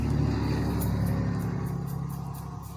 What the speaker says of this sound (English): if you all can hear the cars going by outside, I do apologize